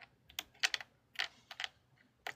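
Typing on a computer keyboard, close and alone: bursts of quick, crisp key clicks in irregular clusters with short gaps between them.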